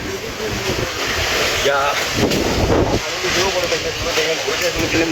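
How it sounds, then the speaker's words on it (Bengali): Strong, gusty wind roars across a five-storey rooftop, buffeting the microphone with a continuous rushing noise that surges and eases in waves, and a voice speaks briefly underneath. "কিন্তু বাতাস, ভয়ঙ্কর বাতাস"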